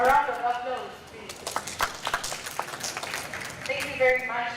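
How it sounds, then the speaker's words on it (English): An audience at a mental health and media conference gives a short round of clapping, a moderate patter that rises in the middle while a voice talks at the start and end. "A round of applause, please."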